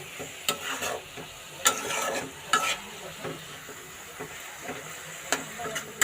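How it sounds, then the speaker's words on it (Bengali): Radish greens frying in a pan with dried chili, stirred with irregular scraping strokes over a soft, continuous sizzle, close and moderately loud with no talk. "আর দুই এক মিনিট নাড়াচাড়া করে শাকটা আমার ডান হয়ে যাবে"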